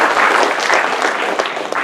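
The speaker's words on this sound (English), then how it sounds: "Please give a big round of applause." Applause from a conference audience fills the room, a dense, steady wash of many hands clapping for about two seconds, loud and continuous with no voices on top.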